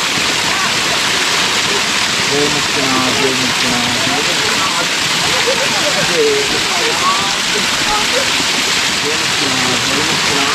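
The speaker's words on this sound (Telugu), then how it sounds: "అన్ని పైపులు వాటర్ పోతుంది" Steady rushing water pours continuously from pipes at Muktinath Temple, Nepal, a dense splashing roar like a heavy stream, with faint voices underneath.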